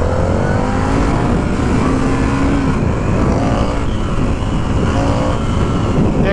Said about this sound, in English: This bike is very fast and lightweight.